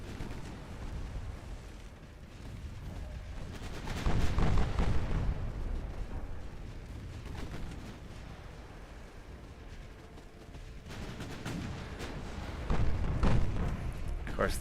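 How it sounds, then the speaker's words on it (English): Naval guns fire in the Ultimate Admiral Dreadnoughts warship game, with heavy rumbling booms swelling around the fourth and thirteenth seconds over a continuous low battle roar. "Just keep shooting at the same fucking guy over and over again until you cripple him."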